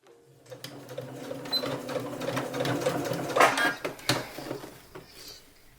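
A sewing machine understitches the collar of a shirt dress, a close rapid mechanical whirring that starts, runs for several seconds with slight speed changes, and stops.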